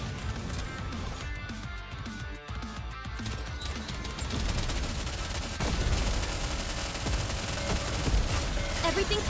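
Sustained automatic gunfire in the shooter game NIKKE, a continuous, loud fusillade of rapid shots mixed with crashes and impacts that runs throughout without pause, growing denser toward the end.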